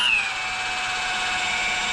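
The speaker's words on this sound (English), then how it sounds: "It's making the drill work harder, so it's not turning as fast." An electric drill spins a Rolls-Royce Springfield Phantom 1 dynamo under load, giving a steady, close, continuous high whine with a slightly falling pitch at the start, alone with no talk.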